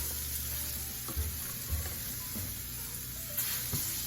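Skinless salmon sears in a frying pan with a steady, soft sizzle and crackle, broken by a few faint pops and light taps, with no voices.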